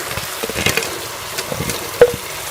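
Fried chicken pieces for Chicken 65 are stirred into a sizzling sauce in a pan, with a steady close sizzle under scraping, clattering stirs. A sharper clank comes near the end.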